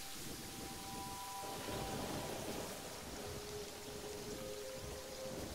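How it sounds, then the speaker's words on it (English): Rain and thunder in the video game Terraria: a steady, faint hiss of rainfall with a low rumble, continuous throughout and alone without talk. "It's still raining."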